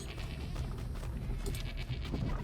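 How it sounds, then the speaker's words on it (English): A goat in the video game Enshrouded bleats in a wavering, nasal cry that runs through the whole short stretch, fairly close and clear over a low rumbling game ambience. "So this is goat"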